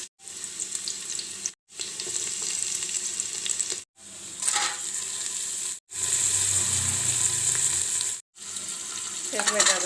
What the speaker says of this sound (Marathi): तेल आणि तूप टाकलेले आता आपण कांदा टाकू